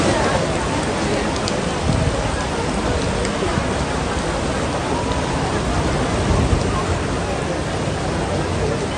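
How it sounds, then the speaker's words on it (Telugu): Heavy rain pours down over Medak town in Telangana, a steady, loud, dense hiss of falling water that continues without a break from start to finish. "8 సెంటీమీటర్ల వర్షం కురుస్తుంది"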